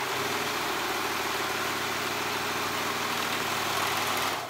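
A sewing machine stitches straight along a raw knit-fabric edge of a Chapman cardigan. It makes a steady, continuous motor whir at close range, with no talking.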